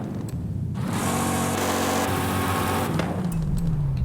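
A stock Lincoln Continental V8 idles and revs in Forza Horizon 5, a steady loud engine drone that swells into a higher-pitched rev and then drops back.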